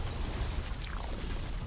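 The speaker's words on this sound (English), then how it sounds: "It's another body explosion." The Cerberus boss's body bursts apart in Devil May Cry 5: a low, rumbling blast with a falling, whooshing sweep, heard briefly over dense game noise.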